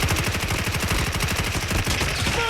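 Rapid automatic gunfire rings out in a shooting video game, a loud, dense stream of shots that continues without a break, with a brief tonal game sound right at the end.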